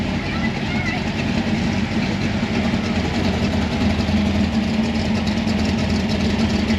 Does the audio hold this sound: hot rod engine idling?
yes